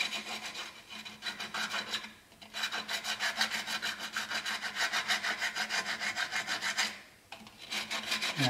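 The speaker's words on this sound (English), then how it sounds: "I'm going to take you some real rough sandpaper and scar it up pretty good" Rough sandpaper scratches back and forth across a wooden walnut bowl in steady, rapid rasping strokes, close and loud, with two brief pauses around the two- and seven-second marks.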